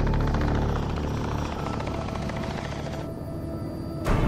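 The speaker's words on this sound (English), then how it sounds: "We have a helicopter here" A helicopter at a rhino relocation operation, its rotor thumping loud and steady throughout, with a brief louder burst near the end.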